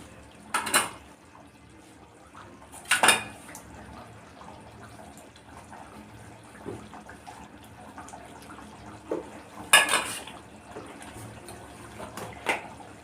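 Chicken kosha being stirred in a pot, with a few sharp scraping and clattering strokes around the start, middle and end, separated by quiet stretches of low simmering.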